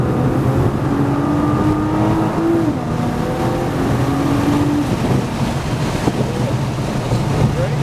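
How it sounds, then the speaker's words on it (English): A 2025 Nissan GT-R accelerates hard around a race track, its turbocharged engine a loud, steady roar with rising whining tones, heavy wind buffeting the microphone throughout. "Spool those turbos and go."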